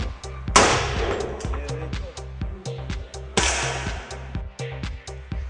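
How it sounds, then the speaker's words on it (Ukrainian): Sniper rifle shots fired by army recruits at a shooting range: two loud, sharp reports with long echoing tails, separated by a few seconds, over a steady clatter of background range noise. "А ось у цьому тирі армійські новачки вчаться стріляти зі снайперської рушниці."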